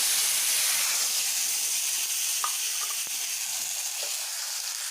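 Masala of red chilli powder, turmeric and coriander powder frying in oil, a steady soft hiss and sizzle held throughout, with a few faint clinks from stirring.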